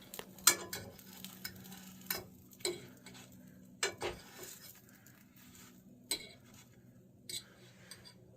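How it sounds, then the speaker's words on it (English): A slice of bread is flipped in a frying pan, heard as scattered close clinks and scrapes of a utensil against the pan over a faint sizzle, with no talk. "Now this first flip, it won't be quite browned as I flip it a tad early"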